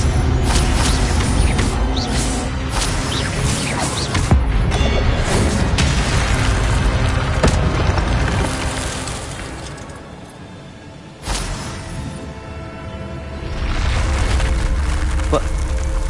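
Spell casts and magical blasts from Hogwarts Legacy, a loud, dense stream of booming impacts and crackling bursts that drops away briefly before a sharp blast and another surge.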